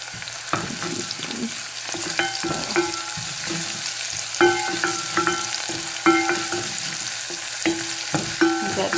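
Garlic and ginger fry in hot oil, a continuous sizzle broken by repeated scraping stirs at an irregular rhythm, close and fairly loud, with no talking.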